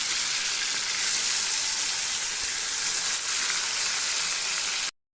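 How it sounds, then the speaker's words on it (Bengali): Marinated mutton for biryani tipped into a hot kadai over caramelised sugar, giving a loud, continuous, close sizzle with a steady hiss that stops abruptly at the end. "আমাদের মাংসটা যে আমি ম্যারিনেট করে রেখেছিলাম সেটা এবার আমি কড়াইতে দিয়ে দিচ্ছি।"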